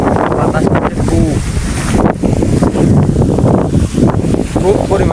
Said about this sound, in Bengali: তো দেখতে পাচ্ছেন অনেক বাতাস হচ্ছে